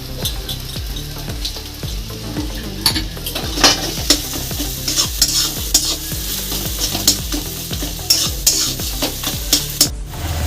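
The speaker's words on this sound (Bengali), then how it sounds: "ধনেপাতা কুচি দিয়ে এবার ভালো করে নাড়াচাড়া করে নেব" Boiled potato with garam masala being stirred in a pan, a steady run of scraping spatula strokes over a soft sizzle, close and alone with no talk.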